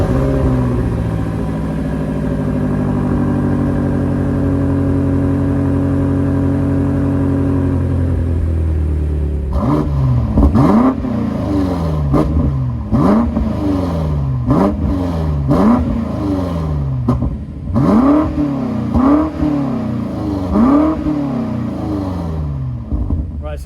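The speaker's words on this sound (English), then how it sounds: "I might as well turn the car on, get you guys a start up now." A 2021 BMW M5 Competition LCI with a 625 hp V8 idles with a low, steady rumble, then revs sharply about ten times in a rhythmic series of loud, close blips.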